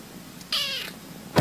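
A cat gives a single clear, close meow lasting a fraction of a second, followed by a brief sharp sound, with no talking around it.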